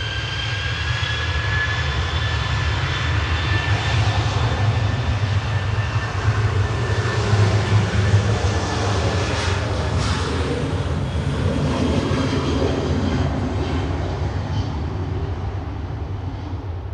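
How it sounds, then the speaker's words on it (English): An Ethiopian Airlines airliner from Geneva touching down at Manchester Airport, a sustained loud jet rumble with high whining engine tones, steady and close, and no voices. "Ethiopian touching down from Geneva, ultimately from Addis Ababa."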